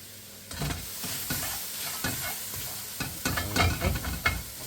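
Onions fry in a pan while being stirred, producing an irregular crackling sizzle with scraping bursts that grow busier toward the end; close and moderately loud.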